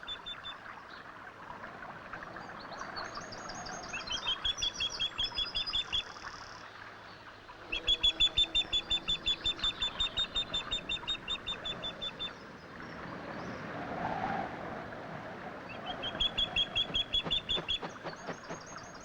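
Young ospreys calling at the nest, repeated rapid series of high, thin piping chirps in several bursts, moderately close, over a low background rumble.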